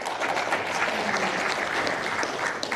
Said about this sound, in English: We'll save the clapping to the end